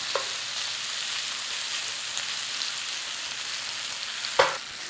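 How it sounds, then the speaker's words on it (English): Sliced garlic fries in a pan with a steady, dense, close hiss of sizzling oil, even throughout, with a brief clatter near the end; no voices. "In there, your sliced garlic. A little 30 seconds on there."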